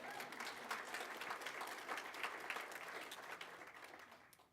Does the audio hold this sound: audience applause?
yes